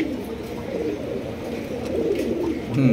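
Pigeons in a loft coo in a low, continuous murmur, with a louder call rising near the end and no voices over it.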